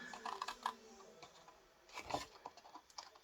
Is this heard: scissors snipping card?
yes